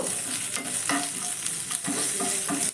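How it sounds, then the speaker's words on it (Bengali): White sesame seeds and spices fry in a pan with steady, close crackling and a few stirring scrapes, loud and continuous with no talk. "এবার সব কিছু ভালো করে একটু ভেজে নেব"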